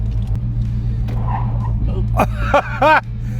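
A classic car rolls and brakes in a parking lot with weak, sticky brakes: a low engine rumble runs throughout, broken near the end by two or three short, sharp squeals.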